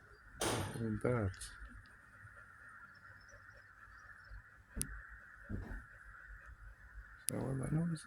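Several loud, harsh honking bird calls ring out in short bursts over a steady background hum, with quieter calls scattered between them.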